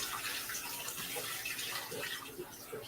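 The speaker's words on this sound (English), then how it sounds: "And we're going to give them a rinse." Organic cranberries rinsed under running tap water, a steady soft hiss of flowing water with faint splashing throughout, fairly quiet and close, with no talking.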